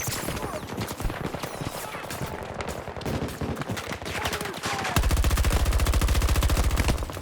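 Rapid automatic gunfire in an online shooter game, dense repeated bursts of shots with a heavy sustained volley toward the end, loud and close, with game voice callouts mixed in.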